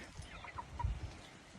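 Chickens in a rooster grow-out pen give a few soft, low clucks, faint against a quiet outdoor background, with one slightly louder burst near the middle.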